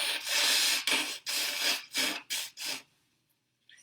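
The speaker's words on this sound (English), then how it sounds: "you're going to hear me blow my nose" A person blows their nose in several loud, close honking bursts of breathy rasp, five or six in quick succession, then stops into near silence.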